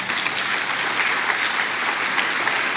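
A church congregation breaks into sustained applause during a sermon, a dense, steady wash of clapping from many hands that holds at an even level throughout.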